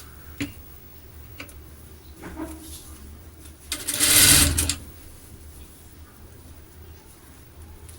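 A sewing machine stitches a silk pavada skirt in one short burst of rapid whirring near the middle, set among quiet taps and faint background sounds.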